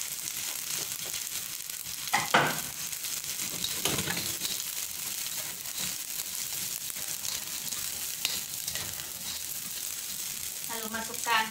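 Rice being stir-fried for Indonesian nasi goreng in a pan, with a steady broadband sizzle and scraping stirs throughout, occasional louder clanks, and brief voice near the end.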